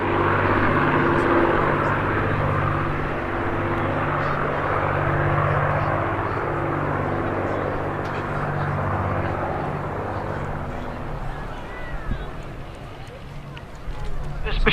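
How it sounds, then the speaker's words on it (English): An Avro Lancaster bomber flies past at an airshow, its deep multi-engine propeller drone loud and steady before easing away, with a voice speaking over it. "I give you the incredible Lancaster."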